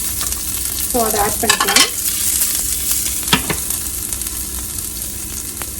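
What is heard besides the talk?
mustard seeds, garlic and dried chillies frying in oil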